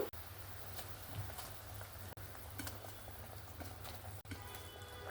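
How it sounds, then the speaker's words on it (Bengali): Gravy for a chela fish and eggplant curry simmering in a pot, heard as faint, continuous bubbling with small scattered pops and no voices. "এবার আমি গ্রেভিটাকে ফুটতে দেব গ্রেভিটা দেখুন সুন্দরভাবে ফুটে উঠেছে"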